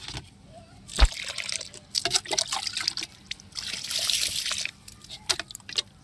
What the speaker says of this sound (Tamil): இதுக்கு தண்ணி ஊற்றிக்கலாம்